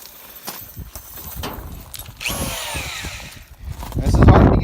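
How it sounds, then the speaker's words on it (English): An electric drill with a half-inch spade bit bores into the end of a log to shape a tenon. The cutting noise rises and grows louder toward the end, with a brief whining sweep partway through. "run a 1/2 inch spade bit down through the end of here"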